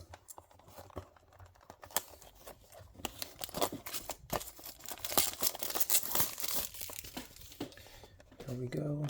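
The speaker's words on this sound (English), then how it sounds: "Let's take it out of the plastic." A diecast Nissan GT-R Stagea R34 or Toyota Yaris model car is pulled from its plastic wrapping, producing close crinkling and crackling that grows busier toward the end, with a voice briefly speaking at the close.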